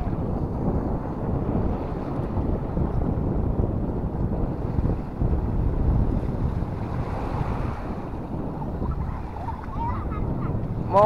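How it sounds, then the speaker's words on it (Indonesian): Strong wind blows hard across the microphone on an ocean beach during a fishing outing, with surf rolling underneath. The roar is steady and loud throughout, with faint voices mixed in. "Angin"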